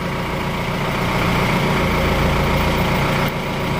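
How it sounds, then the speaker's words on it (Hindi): A Mahindra SUV's engine started with its self-starter and settled into a steady, low idle, a constant droning rumble with no talk over it. "गाड़ी को स्टार्ट करूँगा, ये सेल्फ हो गया"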